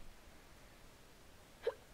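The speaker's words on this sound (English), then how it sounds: "I have the hiccups" A single quiet hiccup near the end, one short sharp gulp after near silence.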